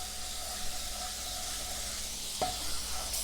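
Veal saltimbocca pan sauce of butter and wine sizzling and hissing in a hot pan as the alcohol cooks off, a steady close-up hiss with a brief sharp sputter near the end.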